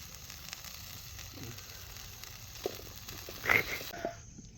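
Garlic and fish fry steadily in hot oil, a continuous close sizzle with hissing crackle that swells briefly near the end.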